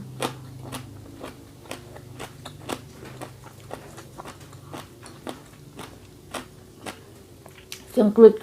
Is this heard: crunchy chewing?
yes